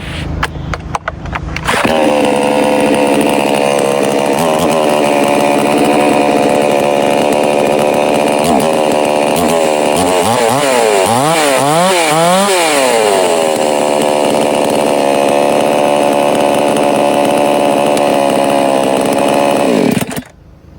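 A cheap Temu chainsaw starts up and runs loud and close for nearly twenty seconds, holding a buzzing idle with several revving surges in the middle before cutting off.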